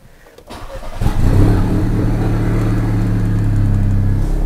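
A Volkswagen car engine cranks briefly, catches and settles into a loud, steady idle close by, with no talking.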